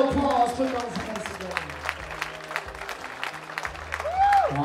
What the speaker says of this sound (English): let's give him a great big round of applause. Put those hands